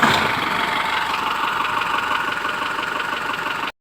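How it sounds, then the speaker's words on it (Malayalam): A vehicle engine idles steadily at moderate loudness with a rough, slightly knocking texture, holding an even drone throughout before cutting off abruptly at the end. "ഇപ്പോൾ നമ്മൾ നേരെ വണ്ടി കയറി പോകട്ടോ."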